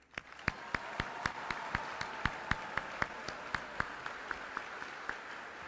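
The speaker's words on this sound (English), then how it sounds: "Please join me in a round of applause for the band." Sparse, evenly spaced claps ring out for an army band at a graduation ceremony, each sharp hand strike distinct and fairly close over a low background murmur, with no voices.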